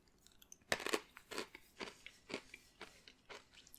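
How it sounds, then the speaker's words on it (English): Crunchy Bombay mix snack is bitten and chewed up close, a quiet run of irregular crisp crunches and chomps that starts after a brief pause, with no talking. "let me try some of that Bombay mix"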